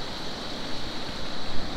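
A mountain river in Sikkim flows under a bridge near Teesta, a steady close rushing roar of water with gentle swells, and no voices.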